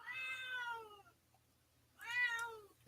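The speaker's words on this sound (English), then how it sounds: "Crazy ass cat." A cat meows twice, each call drawn out and whiny, with a short pause between, fairly close against a faint low hum and no talking.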